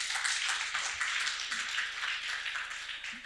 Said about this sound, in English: the applause coming from the audience says it all